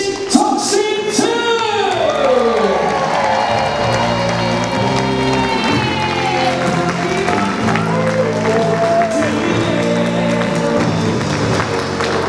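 An arena crowd at the 2015 Robot Wars World Championship applauds and cheers loudly for the new champion robot, Toxic 2, in a sustained roar with music playing alongside.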